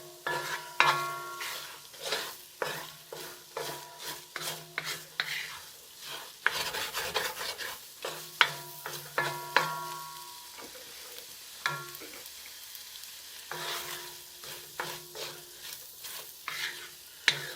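A utensil stirs and scrambles eggs in a sizzling frying pan for chicken fried rice, with repeated scraping strokes and sharp clinks against the pan over a soft frying hiss, close and unhurried.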